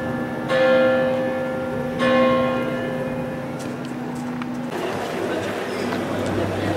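Two deep strikes from an 1841 church bell tower in Zagreb at 7 p.m., each ringing out and slowly fading, followed by outdoor ambience and rustling.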